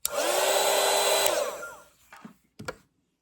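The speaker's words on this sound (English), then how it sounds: "I also have right here my dryer. I like to use this to speed up the process between layers." Small handheld hair dryer used to dry watercolor paint layers runs with a loud, steady whooshing blow for about a second and a half, then winds down, followed by a few soft clicks and handling knocks.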